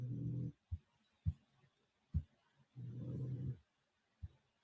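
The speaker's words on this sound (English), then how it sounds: "that's my dog snoring" A dog snores loudly nearby in a slow rhythm, with long rumbling breaths broken by short snorts in between, all quiet otherwise.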